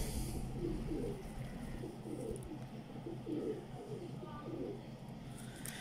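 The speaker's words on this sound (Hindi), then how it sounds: "कोने वाले टैडी कबूतर हैं" Soft, repeated coos from Teddy pigeons rise and fall every second or so, low and rounded, over a steady background hum with faint murmuring.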